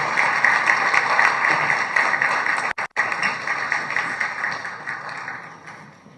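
A crowd applauds at a Haitian news show, steady dense clapping that fills the clip, broken by a brief dropout near the middle and tapering slightly toward the end.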